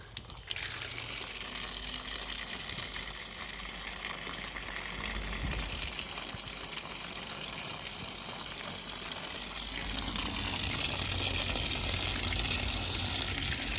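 Water gushes from a 1-inch pipe into a culvert drain and swirls around its sides, a continuous splashing rush that swells slightly louder in the last few seconds.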